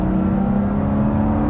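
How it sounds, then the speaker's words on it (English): Aston Martin Vanquish V12 restomod with a revised exhaust, droning steadily and loud at close range, a smooth continuous engine tone with no talking over it. "So it still sounds fruity. You're still very aware that you're driving a V12"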